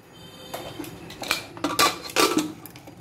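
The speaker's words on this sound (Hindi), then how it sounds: "प्रेशर कुकर में मैं सारे सीड्स डाल रही हूँ। अब मैं इसमें पानी डालूंगी।" Jackfruit seeds, water and salt go into a metal pressure cooker, producing close clinks and clatters of seeds and utensils against the pot in irregular bursts with brief pouring splashes.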